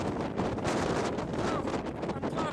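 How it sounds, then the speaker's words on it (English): Strong wind gusts roaring across an exposed mountainside on Blencathra in the Lake District, buffeting the microphone in a loud, continuous, broadband rush with surging swells and no voices. "The wind is blowing in some pretty big gusts."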